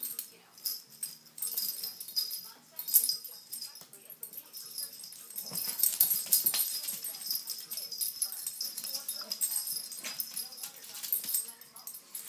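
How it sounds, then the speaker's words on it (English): A puppy and a grown dog play together, with high, thin whimpers and yelps scattered throughout alongside scuffling and faint voices in the background. "What happened to that tiny little puppy?"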